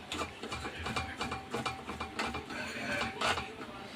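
A nut is tightened onto the stone holder of a Ponmani Pearl Plus wet grinder, giving a close run of small metallic clicks, ratcheting and scraping taps at a low level with no talk.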